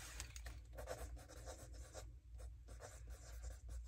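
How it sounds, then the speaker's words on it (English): A pen scratches steadily across paper as a note is written by hand, a close, continuous rubbing sound with short strokes and brief pauses. "Let me write that down."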